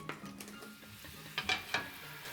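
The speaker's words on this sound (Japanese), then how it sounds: "水をしっかりと絞ったわかめときゅうりを入れて味がなじむように混ぜて冷蔵庫に置いておきます。" Squeezed wakame and cucumber being stirred together in a bowl, with soft wet squishes and a few sharp clicks of utensils against the dish, close up and with no voices.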